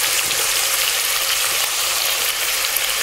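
Spices with turmeric, chili powder, salt and sugar sizzle and fry in oil in a pan for potato and papad kalia, a loud, dense, continuous hiss close by with faint stirring.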